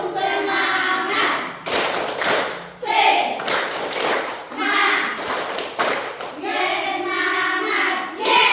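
A standing class of students performs the 'tepuk semangat' clapping ice-breaker, with bursts of loud, rhythmic group claps alternating with voices chanting together, close and lively.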